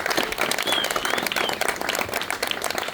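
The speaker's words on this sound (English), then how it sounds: "everybody give a big round of applause" A crowd applauds at a Chapman Chabad gathering with October 7th hostage survivors: dense, steady clapping from many hands, loud and unbroken across the whole stretch.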